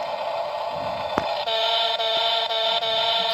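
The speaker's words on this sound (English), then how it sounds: "They provide the horn also." A Fendt RC toy tractor's electronic horn sounds as a steady, buzzy tone that starts after a short click and holds for about two seconds, with small dips, close and fairly loud.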